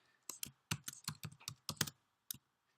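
Keys on a computer keyboard tapped in short bursts of crisp clicks while coding an HTML registration form, about a dozen strokes in quick uneven rhythm, close and clear, with a brief pause before one last keystroke.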